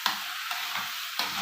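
Egyptian rice being stirred into vermicelli in a pot, a steady broadband sizzle broken by a few distinct scraping strokes of the spoon, close and moderately loud with no talking.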